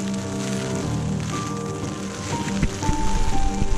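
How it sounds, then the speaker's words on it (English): Steady medium rain drums on the fabric of a tent pitched for wild camping on a gusty hillside along the Cambrian Way, a continuous close patter that swells slightly toward the end. "Sort of medium sort of strength rain."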